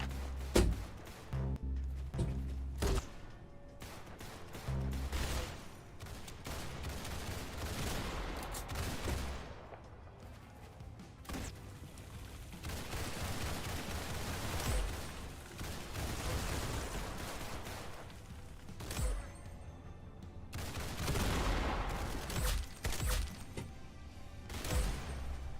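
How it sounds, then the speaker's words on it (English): Dense gunfire in Apex Legends keeps up nearly the whole way through, with rapid bursts and heavy thumping shots. Loud and close, it sits over a steady game mix with almost no speech. "Where does he shoot me from?"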